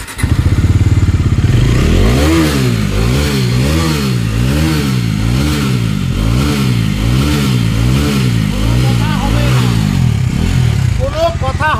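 Bajaj Dominar 250 motorcycle engine loud and close, starting up then settling into a throbbing, pulsing idle with gentle rev swells, a deep rumbling beat throughout.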